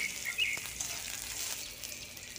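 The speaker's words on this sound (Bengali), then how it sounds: "এই অবস্থায় কেটে রাখা রসুনগুলো আমি দিয়ে দিলাম" Chopped garlic and chillies fry in a little hot oil, giving a steady, moderate sizzle with soft stirring scrapes and no talking.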